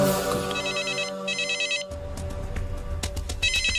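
A mobile phone ringtone rings loudly and nearby with a repeating electronic melody and bursts of trilling bell-like tones, running throughout without speech.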